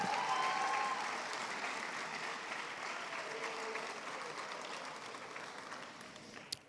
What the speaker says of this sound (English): Stand and give your parents a round of applause.